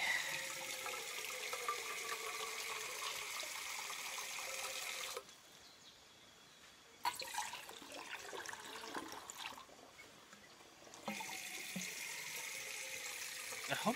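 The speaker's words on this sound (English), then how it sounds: "Nice flow of water as well." A stream flows steadily on an October walk, a broad rushing wash of water that drops away briefly in two stretches and returns.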